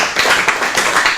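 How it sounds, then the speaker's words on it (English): Applause from a live audience at a comedy show, a steady wash of clapping hands that runs through the whole short moment without voices. "Yeah, sure, you can applaud"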